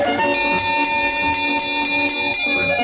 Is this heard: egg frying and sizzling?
no